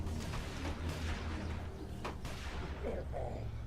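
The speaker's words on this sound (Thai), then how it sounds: "มีเสียงปืน" Gunshots go off in The Walking Dead video game, a few sharp cracks over a dense, rumbling game soundscape.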